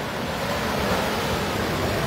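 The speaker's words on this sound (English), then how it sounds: "Look, rough water right now." Rough ocean waves surge up a beach in Trinidad at high tide, making a steady, loud, close wash of surf with wind-like hiss and no voices.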